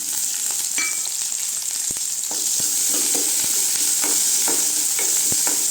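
Onion, garlic and coconut sauté in oil in a kadai with a loud, constant hiss and repeated scraping strokes from stirring, close to the cook.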